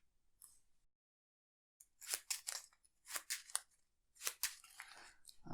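Arkham Horror playing cards being shuffled, several short close riffling bursts after a brief silence, crisp and quiet with gaps between.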